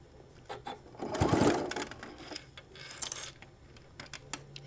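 A sewing machine stitches across the bottom of a shoulder bag, pressing pleats together in one short rising burst followed by quieter handling clicks, close by and without talk.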